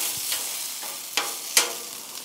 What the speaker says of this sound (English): I'm going to give one of these sausages a quick blast on the heat.